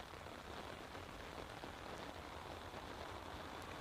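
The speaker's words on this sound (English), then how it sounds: "Deluge alert." Heavy rain pours down at Manchester Airport, a dense, steady hiss of downpour that is quite faint and continuous, with no voices.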